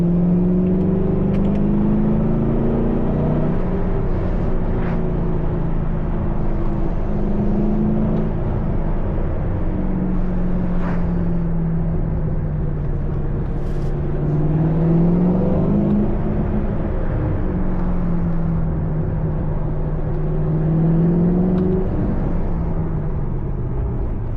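A 2006 Ford GT's engine drones and rumbles continuously while driving with the windows down, its pitch swelling and falling through gear changes and throttle, loud and close with road and wind noise.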